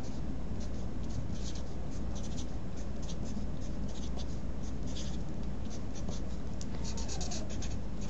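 A pen writing and coloring in a graph, continuous quiet scratching strokes over a steady background hiss.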